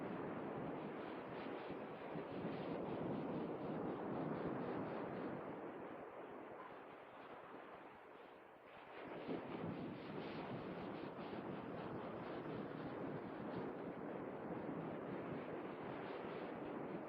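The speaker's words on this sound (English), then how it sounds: "as long as we can hear the ocean" Ocean waves wash onto a beach at night in a steady, broad roar of surf that swells, dips briefly, then surges back, continuous and fairly loud with no voices.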